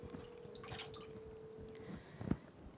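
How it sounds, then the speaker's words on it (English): A hot sublimation-printed latte mug is dipped into warm water, making quiet dripping and sloshing with a faint hum underneath and a brief splash near the end, no talk. "You're just going to dip it in your warm water."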